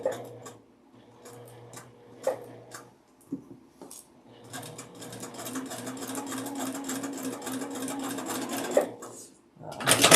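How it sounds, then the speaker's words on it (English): A sewing machine stitching a quilt block seam along a drawn line runs in short bursts, then in a longer steady mechanical whir of rapid needle ticks, close and clear. "we're going to just stitch across the lines that we've drawn on"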